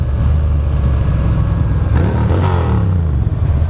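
A 2009 Buell Lightning Long XB12SS motorcycle's V-twin engine rumbles loud and close, holding a deep steady idle before a brief rev that rises and falls midway.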